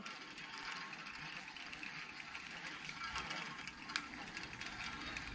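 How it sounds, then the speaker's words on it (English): A baitcaster reel being cranked as fishing line spools onto it gives a steady, close ratcheting whir that runs continuously through the whole stretch, with no one talking. "just as you're cranking it on"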